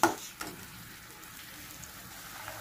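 Ground onion, ginger, garlic and pepper paste frying in a pan for chicken kasha, a steady soft sizzle with a couple of louder stirring clatters at the start, close and quiet with no talking.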